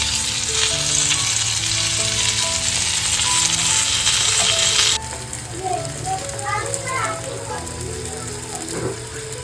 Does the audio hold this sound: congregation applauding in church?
no